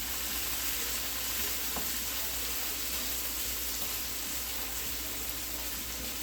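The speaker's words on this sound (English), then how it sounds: "I got it simmering on medium right now." Chicken Marsala sauce simmering on medium heat in a pan, a constant soft hiss and faint bubbling that stays even throughout, close and fairly quiet with no speech.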